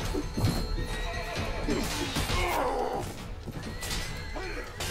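Horses neigh and hooves clatter in a Mount & Blade cavalry charge, a dense, continuous din of whinnies and galloping with battle noise, held at steady loudness throughout.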